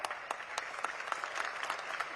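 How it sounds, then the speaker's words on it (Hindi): A large crowd at a BJP public meeting in Rajnagar, Bihar claps steadily in a dense, continuous burst of applause, with no voices rising above it. "जब मैं इनका नाम लेता हूं और आप जो ताली पीटते हो"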